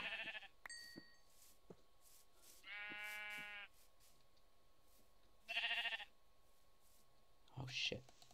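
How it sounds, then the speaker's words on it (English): Sheep in Minecraft bleat in short separate bursts, three or four calls spaced across the stretch, with faint game clicks and quiet sounds between them. "Sheep!"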